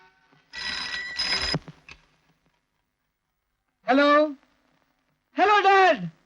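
A telephone bell rings in one brief burst, followed after a pause by two short voiced sounds.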